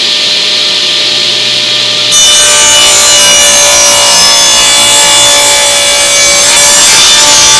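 Power tool cutting a diagonal pass through a wooden board while making router patterns: a faint hum, then a sudden loud, sustained rasping cut that continues steadily to the end.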